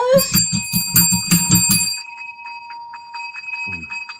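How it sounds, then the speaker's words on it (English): A bright bell rings several times in quick succession with a lingering metallic tone, then fades out while a voice briefly speaks near the end. "Why does his bell sound like it's around the corner?"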